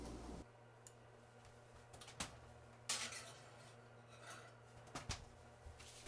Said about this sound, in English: So let's pop it in the oven.